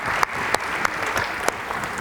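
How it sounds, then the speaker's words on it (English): Guests at a school sports awards banquet applaud themselves in a brief, steady burst of crowd clapping with a few sharper claps standing out. "give yourself a round of applause"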